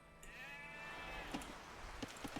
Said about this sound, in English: You've found some sheep.